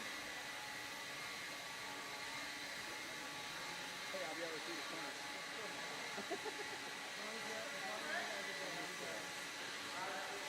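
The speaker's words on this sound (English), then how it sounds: "Marshals, grab your blower. Start blowing off your areas." Leaf blowers wielded by marshals clearing an RC car race track at the Desert Classic, a steady broadband whoosh and whine sustained throughout, with faint voices and announcer speech in the background.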